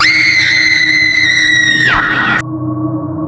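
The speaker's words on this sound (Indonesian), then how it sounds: "Suara rintihan dan jeritan bersahut-sahutan." Horror sound effect of moaning and screaming: a loud, sustained high-pitched wail slides downward and breaks off. A lower, eerie tone and rumbling murmur follow, close and intense.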